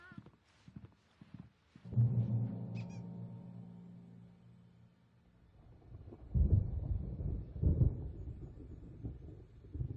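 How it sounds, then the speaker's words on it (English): Thunder from an approaching storm in Alan Wake Remastered rolls in as a long, low rumble, fades, then breaks into a louder, heavier second roll, with faint small sounds before it. "There's a storm coming."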